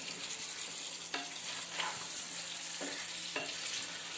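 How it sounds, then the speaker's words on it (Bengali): Potatoes with spices and curd sauté over a high flame, a continuous close sizzle with a few distinct scraping stirs of a spatula against the pan, and no one talks. "এবার একটু ফ্লেমটা বাড়িয়ে দিয়ে একটু কষাবেন"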